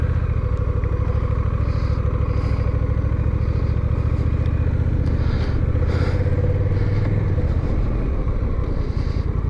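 A Honda Rebel 1100 DCT cruiser motorcycle rides around a car park, its engine rumbling steadily close by with a low throbbing idle and gentle throttle changes, no talking heard.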